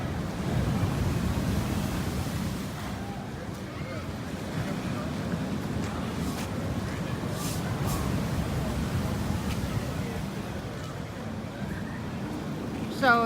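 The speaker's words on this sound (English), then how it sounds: "So the waves were coming up all the way over this seawall here." Hurricane Willa surf in Puerto Vallarta, Mexico, crashes against a seawall: a continuous close roar of breaking waves mixed with heavy wind buffeting the microphone.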